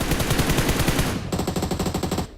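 Rapid automatic gunfire from the mobile battle royale game BGMI rattles in fast bursts, dense and continuous, shifting to a sharper, brighter weapon partway through before cutting off, with no talking.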